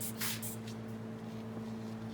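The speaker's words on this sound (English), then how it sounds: "I'm gonna spray down this window." A spray bottle mists a window being prepared for hand-cut tint film, giving a few quick soft hissing bursts at the start over a steady low hum.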